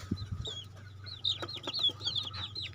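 Young chickens about 15 days old chirp and peep in quick, high-pitched bursts over a low steady hum, with a few soft clucks near the start.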